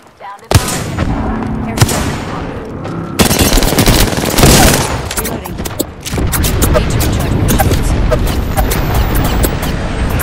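Dense, loud gunfire in the video game Apex Legends: sustained automatic bursts and sharp single shots crowd one another, with a heavy blast near the middle and rapid cracking continuing through to the end.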